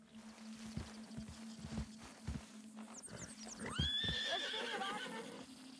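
A horse in the video game Red Dead Redemption 2 lets out a loud, close whinny after a few muffled hoof thuds and a faint background hum, with no talking.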